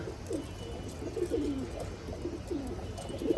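Two female pigeons coo softly and repeatedly in low, rolling phrases against a steady background hum, no voices present.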